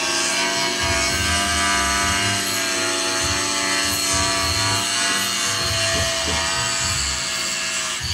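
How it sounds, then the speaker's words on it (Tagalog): A Makita grinder cuts through wood at a house construction site in San Mateo, its steady high whine and rasping grind holding loud and continuous throughout. "Yan yung grinder ng Makita, diba?"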